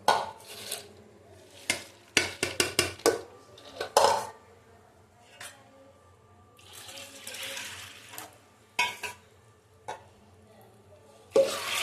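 Kitchen washing noises with running water and clattering pots, dishes and utensils, in irregular bursts of clanks and splashes separated by quieter stretches, fairly close, with no talking.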